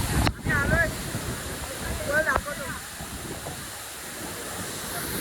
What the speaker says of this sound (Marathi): तर या प्रकारे काय चालले वॉटरफॉल दाखवतो.